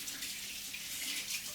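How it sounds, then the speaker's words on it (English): Cold water from a kitchen tap running over drained pasta in a colander: a steady, even hiss of flowing water, close and continuous, with no talk. "When you've drained your pasta, if you want to, you can put it under the cold tap,"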